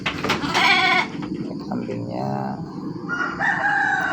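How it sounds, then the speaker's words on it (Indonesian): Penned goats, including shaggy-coated gembel sheep, bleat loudly and close by at a farm in Purbalingga, while someone talks over the animals. "Ini kambingnya ya."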